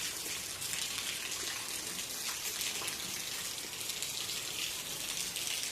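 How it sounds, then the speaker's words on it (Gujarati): Steady rain pours down over a millet field, a dense, even hiss with no pauses, moderately loud and continuous throughout. "ફરી પાછો આજે વરસાદ આવી ગયો"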